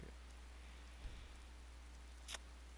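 Steady rain falls in the video game Skyrim, a soft continuous hiss with a low background hum and a brief brighter splash near the end, with no voices.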